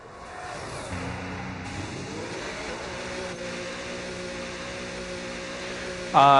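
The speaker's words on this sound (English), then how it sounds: "I like this way the Cadillac car sounds" Cadillac Formula 1 car engine in the racing game F1 26 on PS5, a steady mid-pitched drone with rising and settling harmonics as it pulls away, ending in a louder burst.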